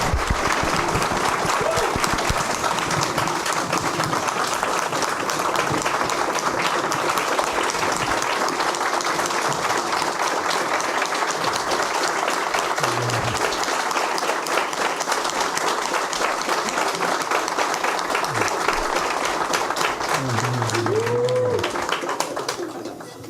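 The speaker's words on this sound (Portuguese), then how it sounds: "Por isso eu peço uma salva de palmas," Audience at an international comics conference breaking into sustained applause, a dense, steady roar of clapping lasting over twenty seconds before fading, with a brief voice near the end.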